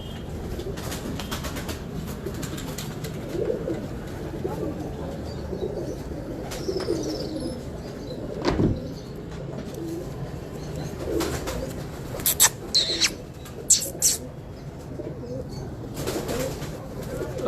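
Pigeons kept by a fancier in Kasur coo softly and steadily at low pitch, with a few brief wing flaps and bird chirps mixed in and faint voices in the background.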